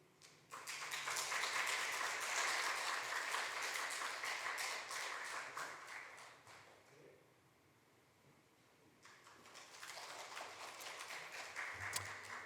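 A church congregation in Houston applauds during a Sunday worship service. A long burst of clapping fades away, then a second round follows, all fairly quiet and distant.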